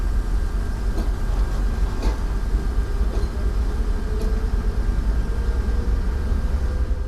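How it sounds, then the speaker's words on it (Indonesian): A rare steam locomotive shunts around a railway depot, a steady low rumble of rolling wagons and machinery sitting near and continuous, with a few faint clanks and metallic knocks scattered through it. "Dan ini lokomotifnya lagi langsiran nih."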